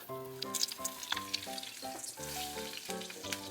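Hot dog frying in a pan alongside corned beef and eggs, a steady close sizzle with crackling pops and occasional stirring scrapes, no talking.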